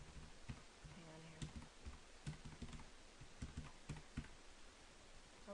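Typing a username and password on a computer keyboard, soft close key clicks in short irregular runs with brief pauses, under a steady low room hiss.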